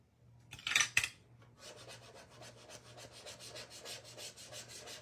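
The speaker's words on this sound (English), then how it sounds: "I just take a little time with your burnishing." Hand-rubbing burnishing at a paint party: a loud rough scraping burst near the start, then a steady run of soft repeated rubbing strokes with a faint low hum underneath, no talk.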